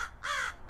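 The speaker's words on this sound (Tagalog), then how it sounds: "May uwak ka." A single harsh caw from a crow, short and fairly close, against a quiet background.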